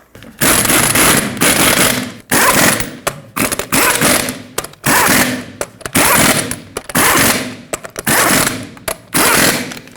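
Impact wrench rattling hard in rapid bursts while tightening the lug nuts on a Ford F-350 rear wheel, loud and close, with several separate runs divided by short pauses.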